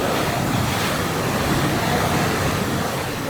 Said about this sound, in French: Là aussi, le bruit de la mer